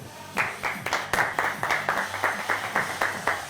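Studio audience applauding a game show contestant's entrance, a rhythmic, fairly close burst of unison clapping in regular beats, like clapping along to music.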